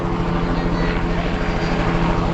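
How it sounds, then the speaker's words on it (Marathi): Helicopter flying overhead to survey pilgrims camped at a market, a steady, loud rotor-and-engine roar that fills the moment without pause. "हेलिकॉप्टर आले वर हेलिकॉप्टरने पाहणी चालू आहे वारकऱ्यांची"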